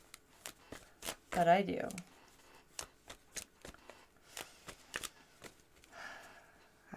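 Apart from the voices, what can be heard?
shuffling tarot and oracle cards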